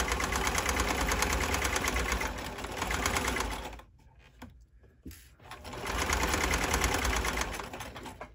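A sewing machine stitches and backstitches the seam of a pair of boxers, with a loud, fast, steady close rattle that stops briefly in the middle and then resumes.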